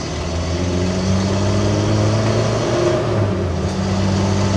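Renault Estafette van in Alpine racing-assistance livery at a hill-climb event, turning on the spot: a steady, loud, mid-pitched engine drone holds close by throughout with slight swells, no voices.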